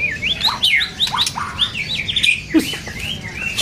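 A magpie-robin sings a varied string of whistles and chirps, close and clear, with a brief harsher note near the end.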